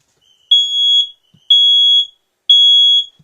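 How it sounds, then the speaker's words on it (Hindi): An electronic alarm beeps in three long, loud, steady high-pitched tones with short gaps between them, alone with no talking. "ये अलार्म जो है वो अब भी बज रहा है"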